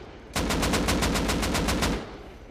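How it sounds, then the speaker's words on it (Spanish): Rapid automatic gunfire in the video game Rust, a single burst of roughly a dozen evenly spaced shots lasting about a second and a half, moderately distant and alone without talk. "No sé quién ha disparado, ni de dónde."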